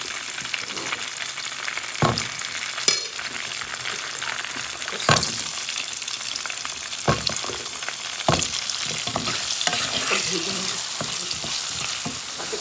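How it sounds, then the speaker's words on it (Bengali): Ready-made potato chips fry in hot oil in a pan, a constant close sizzle with occasional scraping knocks as they are stirred, no voices. "রেডিমেড আলু চিপস ভাজতেছি"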